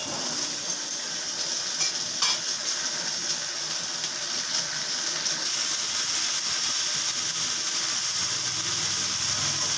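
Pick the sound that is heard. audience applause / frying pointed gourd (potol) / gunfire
frying pointed gourd (potol)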